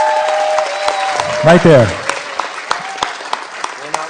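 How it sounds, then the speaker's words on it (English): Applause from an audience at a city commission meeting, honoring a fire chief, with scattered sharp claps that thin out while someone speaks briefly over them. "Please give him a round of applause"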